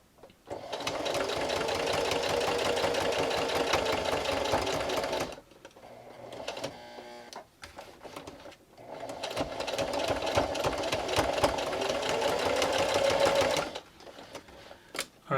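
A sewing machine stitches a headphones pouch in two long runs of rapid, steady mechanical whirring, each lasting several seconds. They are loud and close, with a quieter pause of small handling clicks between them and no talking.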